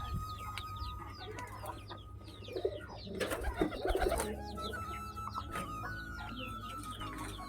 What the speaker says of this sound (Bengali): সব একে একে পায়রাগুলো আসছে